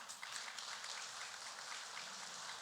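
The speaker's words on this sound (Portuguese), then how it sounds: "Uma salva de palmas para Damares aí." Steady, dense applause from a church congregation honoring Damares, a continuous wash of many hands clapping at moderate loudness throughout.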